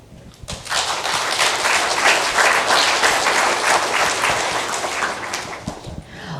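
Steady, loud applause from an audience at a community summit on water sovereignty and justice fills the room, rising quickly after a quiet start and holding dense and even to the end.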